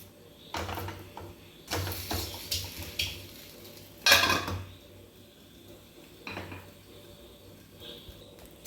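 Chatti appam is turned over in a pan, giving scattered clinks and scrapes of a utensil against the metal, with one louder clatter midway over a quiet room background.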